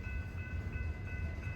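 BNSF freight train rolling by at a distance, a steady low rumble of cars with a faint continuous tonal whine, no voices.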